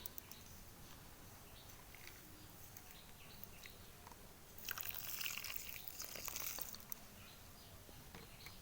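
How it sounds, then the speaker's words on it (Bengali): Water poured onto lemon cuttings planted in sand, heard as a faint, brief splashing rush lasting about two seconds midway through an otherwise quiet stretch. "আর এবারে কিন্তু এর মধ্যে একটু জল দিয়ে দেব।"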